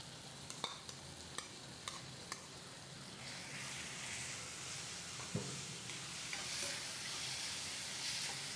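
Prawns going into a pan of gravy and cooking, with a few soft stirring clinks at first, then a steady quiet sizzle and bubbling that continues to the end.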